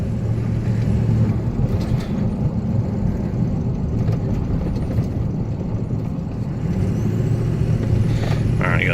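A 2003 Ford F250 FX4 4x4 with a Powerstroke diesel engine cruising at about 40 mph, heard from inside as a steady, loud engine drone and road roar with no breaks.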